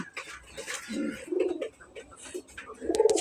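A Bombay pigeon and others in a loft coo softly in low, rolling phrases, a few separate coos close by over a faint, busy background.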